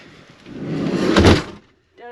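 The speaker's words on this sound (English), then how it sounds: "Can I shut the door?" A van door is pulled shut at a camp on the banks of the Clarion River in Pennsylvania. It sounds close by as a rising rumbling slide that ends in a solid thud, followed by brief silence and then a voice.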